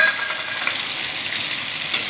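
Fish curry masala of kalo jeera, garlic, onion and tomato paste frying with added water in a pan, giving a steady, close hiss and sizzle with faint stirring scrapes throughout.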